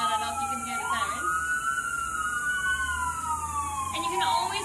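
Emergency sirens outside wail in long rising and falling sweeps, clear but somewhat distant, over a dull background hum.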